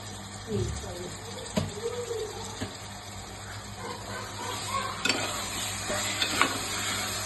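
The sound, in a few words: stirring mutton curry with turmeric and rock salt in pan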